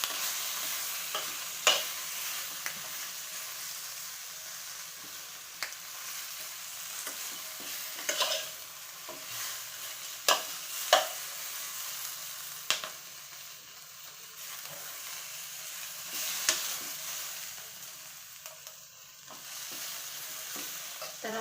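Half a kilo of seeded capsicum fries in a pan, a low steady sizzle broken by repeated clicks and scrapes of a spatula stirring.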